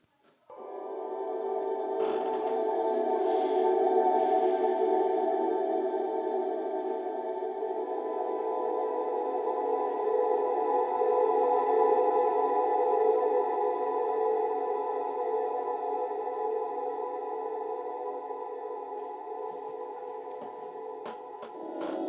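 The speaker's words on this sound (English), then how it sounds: "it creates a melodic pad using what I call infinite reverb" A sustained, shimmering tonal pad with long washy reverb tails, holding steady for the whole stretch at moderate loudness.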